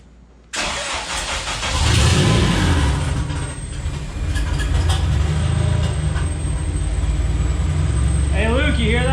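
A Porsche 911 fitted with a JDM K24 swap engine cranks and fires up, settling into a loud, rough idle close by, with people talking faintly underneath.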